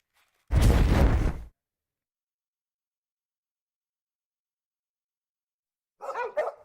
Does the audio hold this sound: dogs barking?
yes